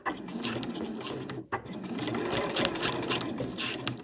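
A home sewing machine stitches a diagonal line across a piped cushion cover in one steady mechanical whirr, briefly stopping mid-seam and then running on at an even pace.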